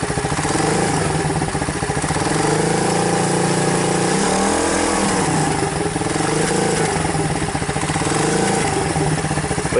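An M2R KXF110 dirt bike engine idles steadily and loudly throughout, its low chugging rumble continuous with slight wavering in pitch.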